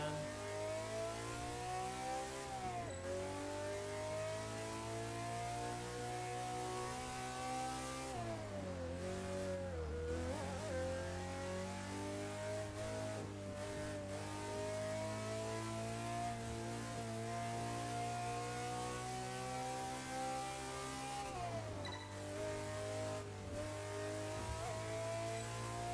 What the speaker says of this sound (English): This Honda just sounds so good,